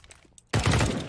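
A sudden loud burst of rapid gunfire in Counter-Strike cuts in after a quiet moment and keeps up as a dense, continuous volley to the end.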